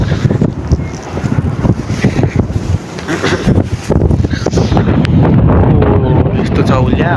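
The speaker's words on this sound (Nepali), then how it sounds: "पुरै हावा चलिरहेको छ होइन" Strong cold wind roars and buffets the microphone outdoors, a loud, continuous gusting rumble that thickens toward the end, with people talking underneath.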